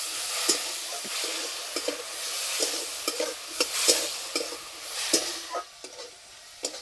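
Cauliflower frying with turmeric, salt and ground spices in a pan, a bright sizzle punctuated by frequent quick spatula scrapes and knocks in an uneven rhythm, close and fairly loud.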